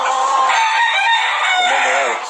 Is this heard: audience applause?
no